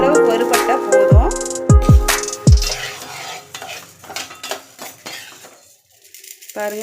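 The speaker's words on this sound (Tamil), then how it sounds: "பாருங்க, இந்த அளவுக்கு வறுபட்டா போதும்." Horse gram dry roasting in a pan for idli podi, with a spoon scraping and clinking against the metal in short bursts, then dry rustling stirs, and a voice briefly heard.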